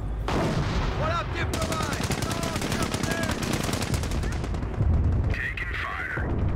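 Dense machine-gun fire rattles in rapid continuous bursts during a Company of Heroes campaign battle, loud and close, with heavier booms mixed in and in-game voices calling out over the shooting.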